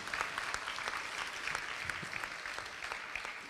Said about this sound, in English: All right, let's give them another round of applause.